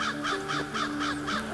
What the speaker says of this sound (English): we've been hearing a bunch of birds here to the south of us